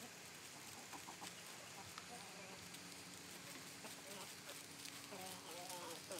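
Roosters in a flock, newly mixed and wanting to fight, cluck and call in scattered bursts over a steady outdoor background hiss, with a voice murmuring faintly underneath.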